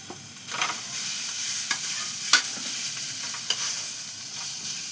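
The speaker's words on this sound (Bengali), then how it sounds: "সেই মাছটা এবার এই মশলাটার সাথে মাখিয়ে নেব।" Boiled, deboned fish is stirred into a fried spice paste for fish chops, giving a soft steady sizzle broken by a few sharp scrapes and clicks of the spoon in the pan.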